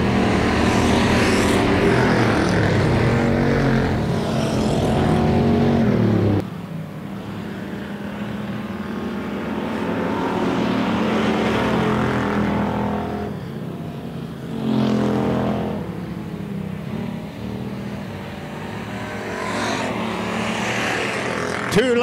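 WISSOTA pure stock race cars roar around a dirt track in a feature race, engines rising and fading as the pack passes, loud and continuous, with a track announcer talking over them.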